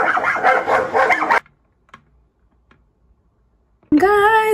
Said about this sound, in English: Guys, the puppies are here